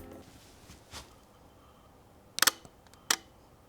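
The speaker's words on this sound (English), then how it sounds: "I love the sound the shutter on this lens makes." A Hasselblad XCD 21mm F4 lens's leaf shutter fires twice, each a sharp, close mechanical click with a brief double snap, separated by under a second of quiet room tone, with a faint softer tick earlier.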